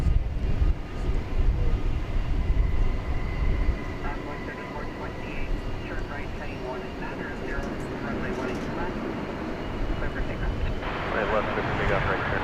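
An American Airlines jet in special Reno Air livery passes at DFW Airport. Its engines give a broad roar that is loudest at first and then settles into a steady drone, with someone talking over it.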